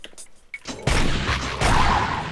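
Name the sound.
repeater cannon firing in a Doom mod video game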